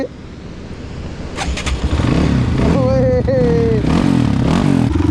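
A motorcycle engine starting on a mountain ride near Manang, cranking then catching into a loud close idle with a few revs, with people talking over it.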